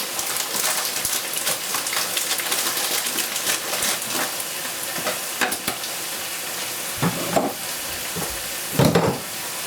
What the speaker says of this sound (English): So I'm going to add a handful of these onions to the already fried, freshly fried onions.